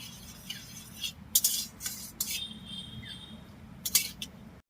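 Chopped ginger frying over low heat in a pan, a faint steady sizzle with a few light scraping and clinking stirs of a utensil against the pan.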